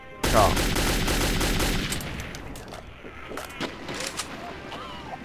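AK rifle gunfire in Metro 2033 opens with a loud, close burst of rapid automatic shots that fades into scattered echoing reports and ambient clatter over the last few seconds.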